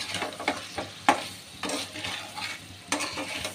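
Pumpkin sautés in a pan with coriander powder, cumin powder and salt. A close sizzle runs under several distinct spoon scrapes and clinks against the pan, with no voices.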